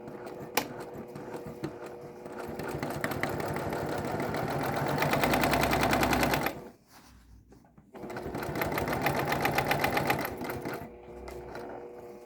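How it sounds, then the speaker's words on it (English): A home sewing machine stitches the seam of a pillow from a DIY kit: a loud, fast mechanical whir runs steadily, stops briefly for a back stitch, then starts again. "So you want to do a few stitches forward. And then you of course want to back stitch so that the thread doesn't become unraveled."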